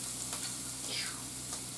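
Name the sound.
pan sizzling while deglazing after frying chicken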